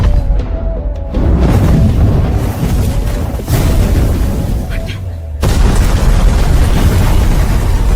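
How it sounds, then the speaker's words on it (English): A violent oil tanker explosion erupts as loud, sustained booming rumbles in dense broadband roar, with a brief dip before the blast surges again near the end, strong and close. "In the violent explosion"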